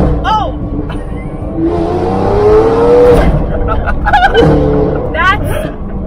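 A Lamborghini Aventador's exhaust roars loudly nearby in Miami Beach, revving up and down, while voices exclaim over the noise.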